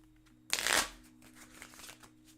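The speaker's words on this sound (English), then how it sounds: "I don't want to like do a poor job of shuffling." A deck of Pokémon trading cards gets one quick, loud riffle shuffle, a crisp burst of flapping cards lasting under half a second, followed by softer handling sounds over a faint steady hum.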